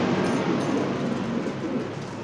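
Pigeons kept for breeding give soft, low, throaty coos in a steady murmur close by, with no voices.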